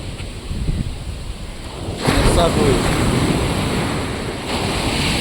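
Ocean waves wash onto RK Beach in Visakhapatnam, a steady broadband roar of surf that swells louder about midway, with wind buffeting the microphone throughout and no clear talk.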